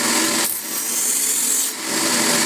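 A steady, harsh abrasive scraping of a knife blade being sanded with sandpaper, continuous and loud with brief dips as the stroke changes direction.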